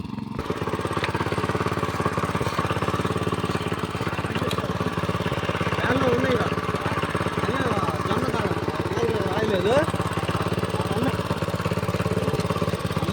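A small farm vehicle's motor chugs steadily and close by with an even, rapid idling rhythm that stays constant throughout, while a person talks over it.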